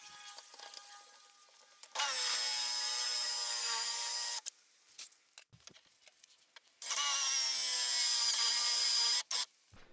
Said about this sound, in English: I just finished drilling these counter bores with this 1/4 Forster bit